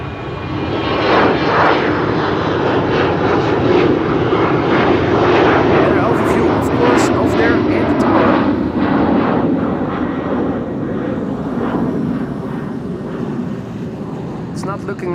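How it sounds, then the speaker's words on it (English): A jet airliner taxis at Amsterdam Schiphol Airport, its engines producing a loud, steady roar that fades slightly toward the end while a person talks over it. "Taxiing on the runway."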